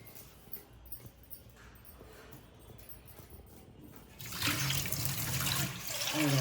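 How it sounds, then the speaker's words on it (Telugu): Dry fish being rinsed under hot running water in a kitchen: quiet clinks and handling at first, then a loud, steady gush of tap water splashing that fills the last couple of seconds. "మళ్ళీ ఇంకొకసారి వాటర్ పట్టుకొని చక్కగా చెన్నీళ్ళతో మళ్ళీ కడుక్కుంటున్నాను"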